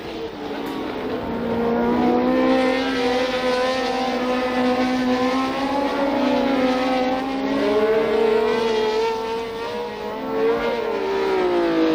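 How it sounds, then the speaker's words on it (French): Formula 1 race cars at the 1976 French Grand Prix, including a Ferrari, roar steadily at full throttle, their engine notes rising and falling as they pass. The sound stays loud and continuous throughout, with no voices. "Cela n'empêche pas Lauda de prendre le meilleur en vol et de creuser un écart conséquent"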